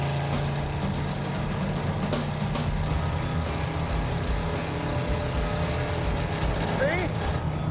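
A Camaro engine runs under load, a steady loud drone holding at varying RPM inside the moving car, with people talking over it.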